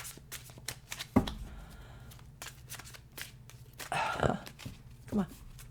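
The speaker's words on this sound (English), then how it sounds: "let's get this shuffled a little" Tarot cards are shuffled by hand in a series of close, crisp riffles and soft slaps, with quiet breathing and handling noise in between.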